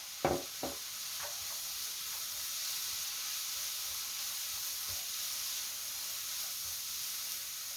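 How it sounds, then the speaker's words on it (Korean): Anchovies stir-fried with chopped green and red chili in a pan for a Korean side dish, opening with a couple of sharp clacks, then a continuous hissing sizzle held at an even level, no talking. "멸치 넣어주세요. 그리고 볶아주세요."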